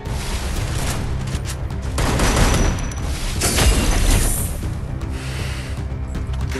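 Gunfire rattles in a Free Fire battle in dense, loud bursts that swell and fade over several seconds, layered with booms and mechanical clatter.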